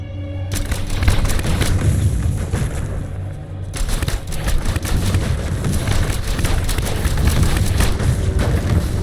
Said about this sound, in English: Or rapidly fire grenades that explode.